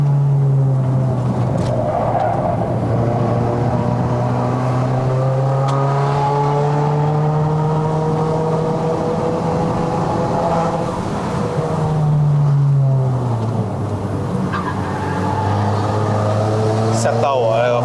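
A VW Golf 1.4 TSI (MK8 R-Line) climbs a winding mountain road in Malaysia, its engine note rising and falling as it revs and shifts down. Someone talks over the steady cabin drone throughout.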